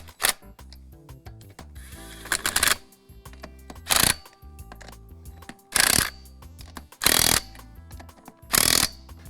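Wheel lug nuts tightened in a star pattern with a power tool on a bead lock wheel for an off-road vehicle, five loud separate bursts of rattling whirs with short quiet gaps between them, set over faint background noise.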